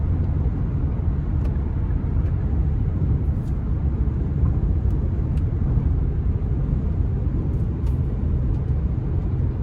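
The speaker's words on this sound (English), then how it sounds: "ride quality coming down the interstate here is pretty decent, relatively smooth" A 2019 Infiniti QX60 Luxe V6 SUV cruising down the interstate, heard from inside the cabin as a steady, continuous low road and engine rumble with faint wind noise and no pauses.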